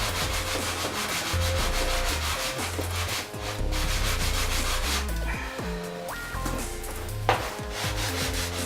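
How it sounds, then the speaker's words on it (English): Sanding of small wooden case parts, a steady rubbing scrape in near, continuous strokes with brief pauses and shifts in rhythm, no voices. "Right, we've done our sanding."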